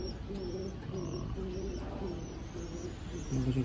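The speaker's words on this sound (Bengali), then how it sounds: "এই একটা সবুজ শাকদম পায়রা" Green Sakdum pigeons in a loft give soft repeated coos and faint chirps close by, over a steady background murmur.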